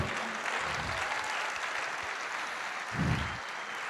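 A church congregation applauds during a sermon on love, a dense, steady wash of clapping that holds for several seconds with a low swell near the end.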